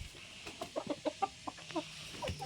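Chickens clucking softly nearby, a string of short rhythmic clucks and calls over a faint background hum, with no voices.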